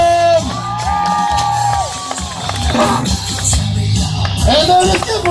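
A crowd at a martial arts performance at the Grange Fair in Pennsylvania cheers and whoops loudly, with shouts and children's yells rising over a steady roar, an amplified voice running underneath.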